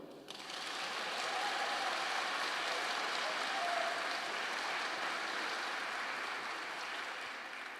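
A church audience applauds with sustained, dense clapping that starts abruptly and holds steady and loud for several seconds, then eases slightly toward the end.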